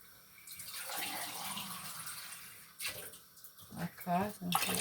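Water pours from a cup into a pot of lentil soup, a soft splashing stream with a few small clinks and rustles near the end; the pouring sounds close but fairly quiet.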